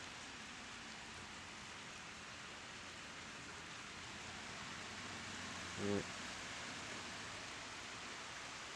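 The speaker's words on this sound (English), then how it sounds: "See all the mist from the rain coming down." Steady, even hiss of rain falling heavily as a cold front moves through, continuous throughout, with a brief soft thump partway through.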